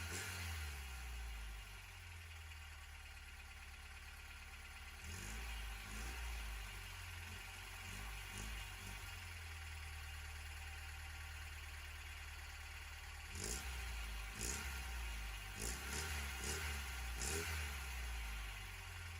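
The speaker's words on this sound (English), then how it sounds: "I decided to give her some revs just to get some lovely noise for my ears" A 1989 Ford Escort MK4 engine idling with a low steady rumble, then blipped in several short revs around the middle and a cluster of sharper revs near the end, close by with no talk.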